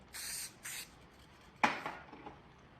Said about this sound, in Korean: 여기다 스프레이 살짝 뿌려주세요.